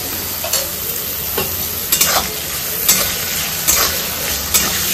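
Chopped vegetables and peas fry in ghee in a pan under a bright, continuous sizzle, with soft scraping stirs from a spatula every second or so.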